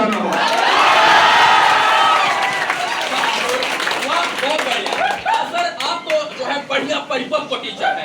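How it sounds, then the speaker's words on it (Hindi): Students at a coaching institute in Jehanabad, Bihar, clap and cheer after a recited couplet. Crowd noise and shouting come first, then many hands clap loudly in quick, uneven bursts for several seconds. "अब मेरी खुशियों की कसम आपको जोरदार ताली बजाना होगा।"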